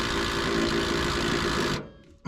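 A pneumatic impact wrench drives a 12-point socket onto a stuck fastener up high on an International Scout, giving a loud, steady buzzing hammer for nearly two seconds before cutting off abruptly into quiet.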